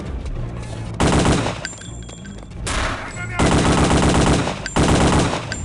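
Gunfire from the video game Return to Castle Wolfenstein: loud, rapid automatic bursts in several long volleys separated by brief pauses, aimed at a heavily armoured boss enemy.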